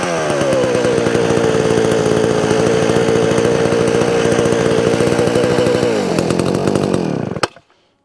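A heavy Sachs Dolmar 133 chainsaw fires back up and runs at a loud, steady roar, with the engine note dropping and sputtering near the end before it dies.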